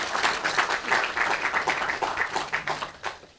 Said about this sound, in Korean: 뜨거운 박수 한번 쳐주시기 바랍니다